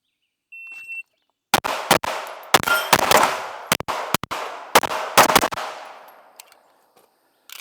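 A string of sharp, loud gunshots fired at steel targets on an outdoor shooting range, coming in quick bursts of two and three with ringing metallic tails, then fading to quiet.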